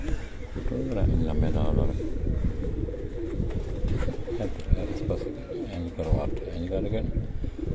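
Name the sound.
pigeons cooing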